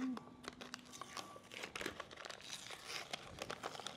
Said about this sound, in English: if you take the paper off the back of this template